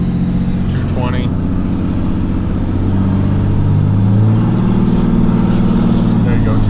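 A Cummins diesel truck engine revs up under throttle, a loud close low drone that climbs and holds steady, with a voice speaking briefly at moments.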